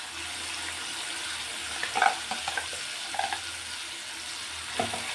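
A ground spice paste with turmeric hits hot oil for a tempering for fresh green chickpea curry, giving a low steady sizzle with a few soft stirring clinks and scrapes, close by with no voices.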